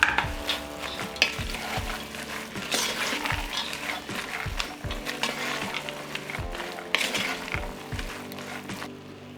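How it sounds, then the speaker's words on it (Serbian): Bacon and ham hock frying together in a pot crackle and sizzle steadily, while a spoon stirs with repeated scraping and knocking strokes against the pot, close and clear with no talk. "Zatim dodajem slaninu i butkicu i propržit ću sve zajedno jedno 5 minuta"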